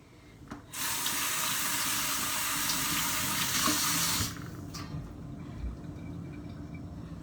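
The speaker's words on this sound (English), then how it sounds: "washing my hands really quick." A kitchen tap gushes into a sink as hands are washed during fish prep, starting abruptly, running steadily and loudly for about three and a half seconds, then shutting off to a quiet room with faint dripping.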